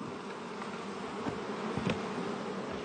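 Honey bees buzzing steadily around commercial beehives, a dense continuous hum of many insects close by, with a few louder passes near the end and no talk.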